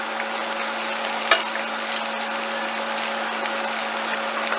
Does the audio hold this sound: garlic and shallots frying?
yes